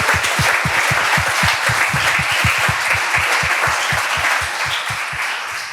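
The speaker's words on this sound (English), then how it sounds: "I want a big round of applause for everyone who participated today" Audience applause at a startup demo day: dense, steady clapping from a large crowd, loud and close, sustained throughout with no break and fading only slightly at the end.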